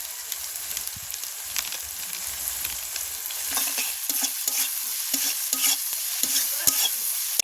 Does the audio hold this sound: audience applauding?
no